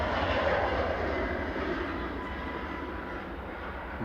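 A TUI airliner arriving from Larnaca at Manchester Airport, a distant, faint jet roar that fades gradually as the aircraft passes.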